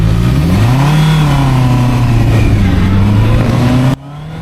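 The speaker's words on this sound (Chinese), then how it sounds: "我们先打火。 好，我们开起来走啊。" A 2026 QJ SRK 600RS motorcycle engine revs loudly and close, its pitch climbing and dipping through throttle blips as the bike pulls away, then cutting off abruptly at the end.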